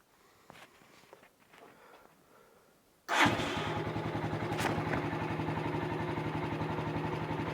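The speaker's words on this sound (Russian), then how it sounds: "Заводится мотоцикл отлично." A 2018 Regulmoto SK150 motorcycle starts after a few quiet footsteps and handling sounds, its engine catching abruptly and then running at a loud, steady, even idle close by.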